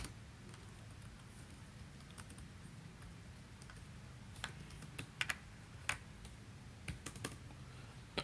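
Computer keyboard typed on while writing code, a quiet run of soft irregular key taps with a few sharper clicks, close and alone without talk.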